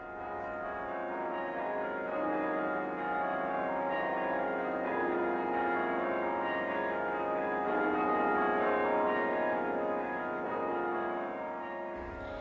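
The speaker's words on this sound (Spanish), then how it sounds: "Tiene 2 conjuntos de campanas y un carrillón de 53 campanas tocado por un carrillonero." Cathedral bell tower bells with a 53-bell carillon ring steadily and fairly loud, a dense wash of overlapping chimed tones sustained throughout without speech.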